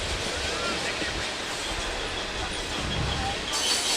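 A train rolls past beside an outdoor soccer field during a Maranatha vs Grace match, a steady broadband rumble of rail cars with wheel clatter and hiss held at constant loudness throughout, with faint crowd and field noise mixed in.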